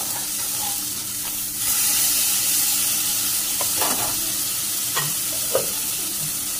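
Flipped tilapia fish frying in a wok makes a loud, continuous sizzle, swelling briefly partway through, with a few soft scraping and clattering touches from turning the fish.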